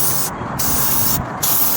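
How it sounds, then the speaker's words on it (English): A spray can lays a second coat of red paint onto BMW engine bay parts in two short, close hissing bursts separated by a brief pause. "we're gonna spray on our second coat"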